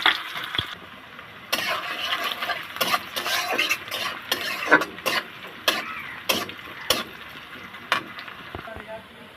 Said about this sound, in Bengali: তেলটা আমার গরম হয়ে গেছে। পেঁয়াজ কুচিটা দিয়ে দেবো।